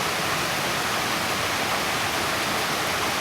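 A strong, swollen creek rushes at night as a dense, unbroken roar of flowing water, loud and close without pause.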